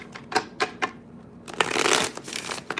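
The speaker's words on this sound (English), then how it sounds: "All right, one more shuffle." A deck of tarot cards is shuffled by hand: a few light taps, then a louder, longer riffling rush and some softer flicks, close by with no voices.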